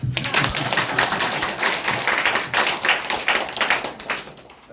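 Audience applause at a church gathering, lively irregular clapping that swells and fades in bursts over a few seconds, close and fairly loud.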